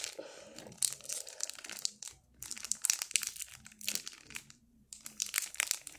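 A plastic packet crinkles and crackles in close, bursty handling while being opened, with brief pauses between crunchy rustles and soft talk faintly underneath.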